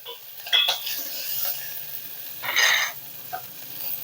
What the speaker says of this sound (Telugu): ఇదిగోండి కరివేపాకు, పచ్చిమిరపకాయలు, కొత్తిమీర కాడలు వేసేసుకోండి ఇలా.